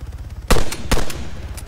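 Two gunshots fired in the Arma 3 military sandbox video game, sharp loud cracks about half a second apart, each followed by a short echo tail across open terrain, with quieter report-like echoes after.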